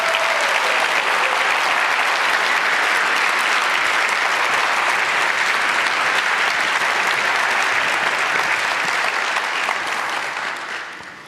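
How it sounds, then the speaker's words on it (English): A theater audience gives an author a big, loud round of applause. The clapping is dense and steady throughout and tapers off gently in the last second. "So let's give Kakwenza a big round of applause."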